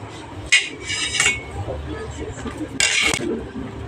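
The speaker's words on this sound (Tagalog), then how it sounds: "maghiwa na tayo ng 2 buong bawang" Knife chopping through two whole heads of garlic on a board, a few sharp clattering cuts with short pauses, close and moderately loud over a low background hum.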